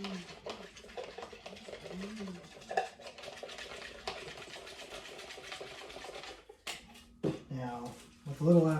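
A mixing cup of casting mixture for a flat silicone rubber mold is stirred by hand, giving a busy, rhythmic scraping and clicking close up, with a brief louder knock near the end.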